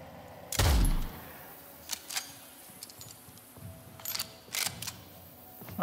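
One loud, sharp rifle shot rings out in the video game Nightingale, followed by fainter scattered clicks and distant cracks, with no talking.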